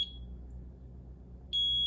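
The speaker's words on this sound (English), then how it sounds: "By turning the key to test reset, the detector will go into alarm." An SL-2000 duct smoke detector is switched into alarm with its test key, sounding a loud steady high-pitched electronic tone that cuts off near the start and resumes abruptly near the end over a low hum.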